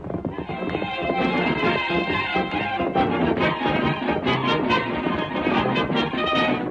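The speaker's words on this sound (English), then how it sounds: "together the two great horses raced toward the sound of firing" Two horses galloping in a radio drama, a continuous rapid drumming of hoofbeats with a whinny, loud and close, with a narrator's voice over it.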